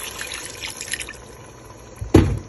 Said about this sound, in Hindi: हम इसमें तकरीबन 2 कप के करीब पानी डालेंगे